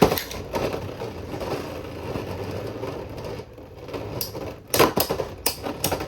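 Beyblade X spinning tops launched into a stadium and clashing: a whirring scrape of tops grinding against the arena, broken by several sharp knocking impacts near the end, loud and close, with no talk.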